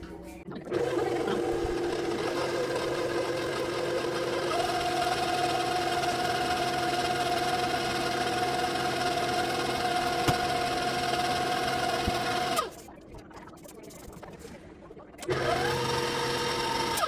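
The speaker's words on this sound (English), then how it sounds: "with the mixer on low speed, I'm going to add in my eggs one at a time, and then stir in some vanilla extract" An electric mixer on low speed beats cake batter with eggs for a cinnamon swirl bundt cake, giving a steady, close motor whir that drops off briefly near the end and then starts again.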